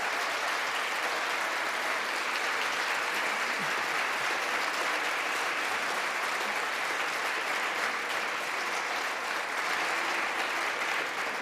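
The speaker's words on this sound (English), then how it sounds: "You can applaud that." Sustained applause fills the House chamber at the swearing-in of the 117th Congress, a steady, even wash of many hands clapping at moderate distance without pause.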